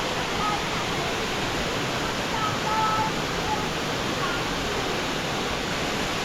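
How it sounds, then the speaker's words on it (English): A waterfall in Vietnam roars as a dense, unbroken broadband rush that stays loud and steady throughout. "I'm at the waterfall."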